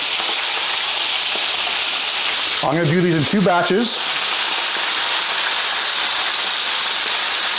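Continuous crackling sizzle of calamari frying in oil at about 365 to 375 degrees, with someone briefly speaking midway.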